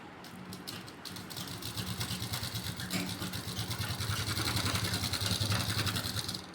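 A sewing machine runs in a steady, rapid mechanical whir as it stitches a pocket seam on a ladies' kurti, with the rhythm building slightly louder toward the end.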